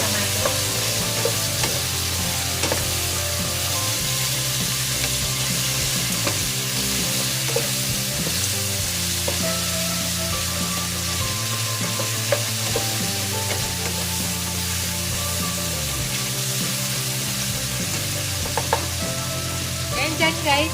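Tomatoes crushed and sautéed in a frying pan for ginisang upo, a constant close sizzle with scraping and stirring, while steady background music plays beneath throughout.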